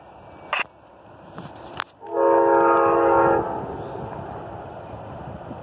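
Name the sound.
Amtrak 49 passenger train passing with horn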